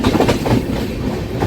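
Chennai–Nizamuddin Duranto superfast express running at speed, a brief close rumble from inside with quick rhythmic clickety-clack of wheels over rail joints and no voices.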